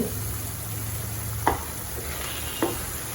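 Cauliflower masala podimas sizzling steadily in a pan, with two distinct clinks of a spoon stirring against the metal over the constant frying hiss, close and moderately quiet.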